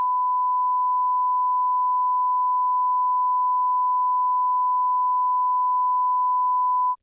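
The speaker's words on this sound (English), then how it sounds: "This is going to get beeped out." A single loud, steady censor beep holds one unbroken pitch for about seven seconds, standing alone and masking the speech beneath it.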